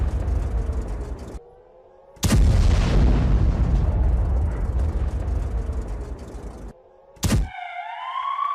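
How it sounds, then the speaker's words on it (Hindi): A missile strike on a building in Tel Aviv brings heavy, rumbling blasts cutting through a wailing siren, with a sharp burst near the end followed by rising siren tones. "मिसाइल आकर सीधा एक बड़ी इमारत को हिट करती, वहां बड़ा धमाका होता है"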